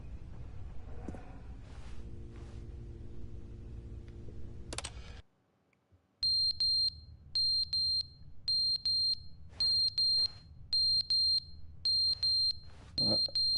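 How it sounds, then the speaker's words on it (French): Inside an office, a smoke detector gives a series of short, sharp high-pitched beeps in a steady regular rhythm after a brief silence, preceded by background noise and keyboard typing. "Détecteur de fumée."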